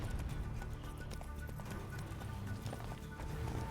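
Roach, a horse in The Witcher 3, moving along with a steady run of hoof clip-clops under a dense, loud game soundscape, close and continuous.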